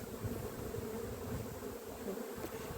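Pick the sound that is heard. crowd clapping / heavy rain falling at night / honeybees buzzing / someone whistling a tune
honeybees buzzing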